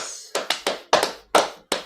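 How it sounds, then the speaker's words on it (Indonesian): A small cluster of sharp hand claps or taps from an audience at a children's church service, six or seven quick uneven strikes over two seconds, close and fairly loud. "kasih tepuk tangan dulu buat Papa Andreas"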